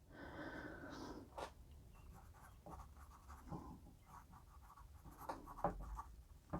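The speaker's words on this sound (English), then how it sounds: "the writing experience is more akin to a bad crayon than a graphite" Pencil scratching across paper, a Berol Eagle recycled pencil with a crayon-like drag; a steady rasping stroke up front, then a series of short scratchy marks and taps, close and fairly quiet.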